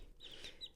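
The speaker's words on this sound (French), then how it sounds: "ce sont des petites poules naines qui ne volent pas" Silkie bantam chicks, small flightless dwarf hens, give soft, high, close clucks and peeps in a brief, quiet burst.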